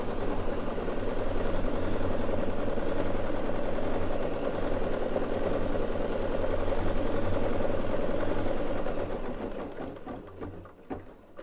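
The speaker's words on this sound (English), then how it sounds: "I'm just going to stitch it in orange. And this is just a tack down." An embroidery machine stitches an orange tack-down line to hold fabric in place, a steady, loud mechanical whir with a rapid needle rhythm running close and continuous before slowing and tapering off at the end.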